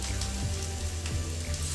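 Small besan batter balls frying in hot oil over a low flame, a steady close sizzle with soft bubbling pops and occasional stirring clinks, no voices.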